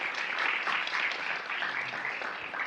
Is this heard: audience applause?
yes